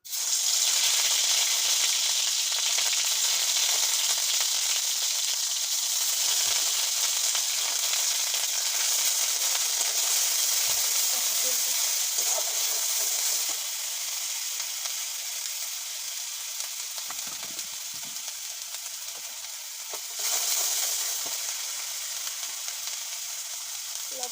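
Puti fish fry in hot oil for curry with a loud, continuous sizzle and crackle, close and steady throughout, easing slightly partway through.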